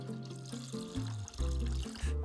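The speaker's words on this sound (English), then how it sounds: "So I'm just gonna top this up with a bit of water." Water is poured into a bowl for an Ikebana-inspired flower arrangement, a steady splashing pour heard close up under a continuous stretch of tonal background music, with no talking.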